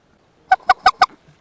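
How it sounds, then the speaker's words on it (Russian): Geese honk overhead during a spring goose hunt: four evenly spaced, clear calls in quick succession, fairly near and otherwise quiet. "Вон гуси летят, пока вы тут херней занимаетесь."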